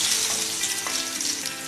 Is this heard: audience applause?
no